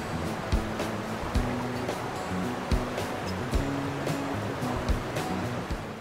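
A three-tiered mountain waterfall in Atimonan, Quezon, gives a steady, dense roar of rushing water, loud and constant, with occasional heavier splashes breaking through.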